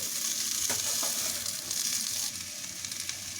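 Spring roll filling frying in a pan, a loud, constant close sizzle with a few scraping stirs of a spoon through it, and no voices.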